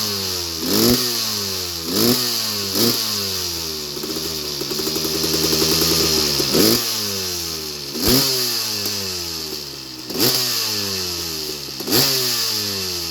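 A 2000 KTM 380 EXC two-stroke motorcycle engine, freshly rebuilt, runs close by with repeated sharp revs rising and dropping back to a lumpy idle, about every second or two, loud and alone.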